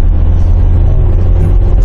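A 2005 Kia Sorento's engine accelerating on the road, heard from inside as a loud, steady low rumble and drone with road noise throughout.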